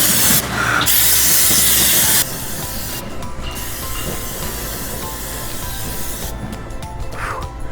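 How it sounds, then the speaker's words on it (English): Canola oil cooking spray hisses in a loud steady burst onto a grill for about two seconds, followed by a quieter continuous hiss and crackle of the hot grill, with a second short spray near the end. "So I use my canola spray"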